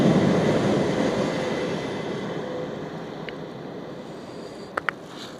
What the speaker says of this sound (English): There's a railway train coming as well.